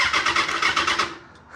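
A Kawasaki ZX6R motorcycle engine cranking, a rapid rhythmic churning of the starter for about a second that then fades out, loud and close with no talking.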